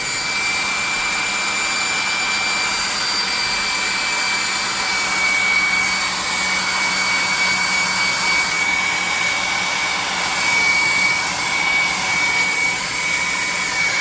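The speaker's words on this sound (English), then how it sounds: "We're going to hit this with a hairdryer quickly." An old hairdryer blows continuously with a loud, steady whooshing roar and a high whine, unchanging throughout.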